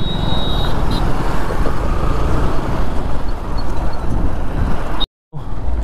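A Volvo paving machine lays a two-lane cement road on a six-lane highway project, giving a steady, loud rumbling drone with wind and traffic-like noise throughout and a brief gap near the end.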